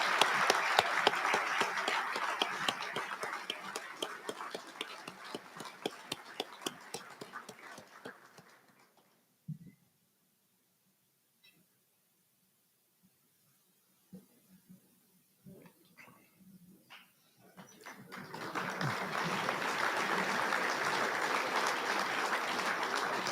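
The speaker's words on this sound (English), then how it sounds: "please join me in a round of applause for our Influence Marines" Audience applause at a Marine Corps awards dinner, a loud sustained crowd clapping that fades into quiet with a few scattered claps, then swells back to full applause.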